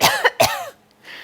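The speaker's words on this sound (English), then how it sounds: "now I'm going to go ahead and cough and see what happens to this plate" A person coughs twice in quick succession toward a plate, close and loud, followed by a brief quiet stretch and then faint rustling.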